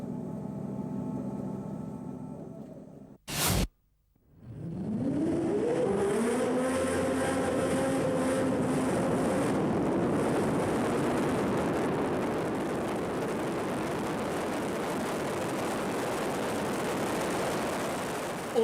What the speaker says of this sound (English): Check the horsepower out as it goes by. Check the sound out. The engine pitch, the noise.